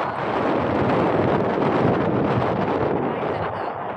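Strong wind by a river in the mountains buffets the microphone in a steady, loud roar that stays constant throughout, with low rumbling gusts and no clear voices.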